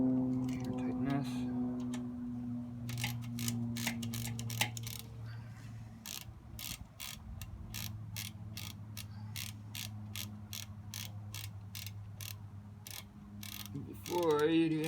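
Ratchet clicking in quick, regular bursts while rear brake parts are tightened on a 1985 Suzuki Madura 700 GV700GL motorcycle, close and fairly quiet, over a low steady hum with brief mechanical rattles.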